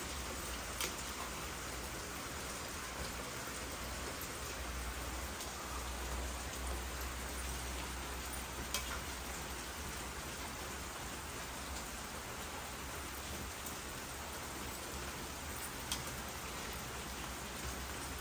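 Rain falls steadily and evenly, a dense continuous patter with no pauses from start to finish.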